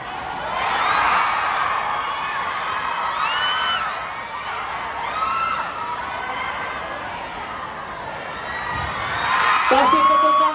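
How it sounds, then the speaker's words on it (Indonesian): A fan-meeting crowd in Jakarta cheers and whoops in waves of excited shouting that swell and fade, with an announcer's voice speaking over the noise at times. "Kasih tepuk tangan sekali lagi untuk Wihajo."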